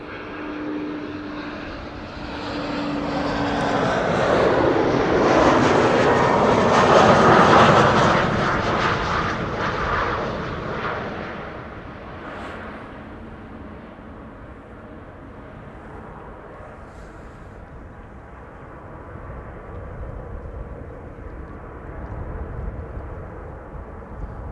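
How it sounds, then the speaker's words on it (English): A KLM Embraer 190 jet landing at Amsterdam Schiphol on arrival from London City, its engine roar swelling to a loud peak as it passes close, then fading into a lingering distant rumble. "KLM Embraer 190 arriving from London City"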